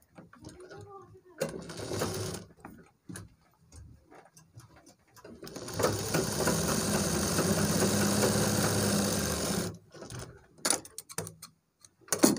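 A sewing machine stitches piping onto a trouser back pocket, one long steady mechanical whir after short bursts and pauses, with a voice talking between the runs.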